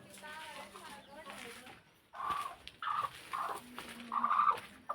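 A native-breed hen with chicks clucks and calls in short bursts, loud and close, after a stretch of people talking.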